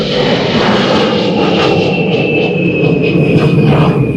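Airliner engines roar at takeoff thrust during a windy go-around at Dublin Airport, a loud continuous rumble with a steady high whine on top and no voices.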